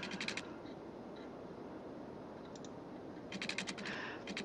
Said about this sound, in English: scrolling, clicking, left clicking, scrolling, clicking, scrolling, clicking